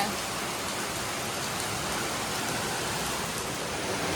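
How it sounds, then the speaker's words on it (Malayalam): Heavy rain pours down in a dense, unbroken hiss, steady and loud throughout with no pauses. "നല്ല മഴ പെയ്തു കേട്ടോ"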